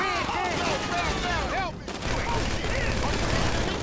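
Gunfire in GTA 5 during a street shootout: dense rapid bursts of shots crackle loud and close, overlapping with sirens wailing through the mix, with talk underneath.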